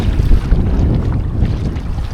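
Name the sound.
canoe paddling hard in stormy wind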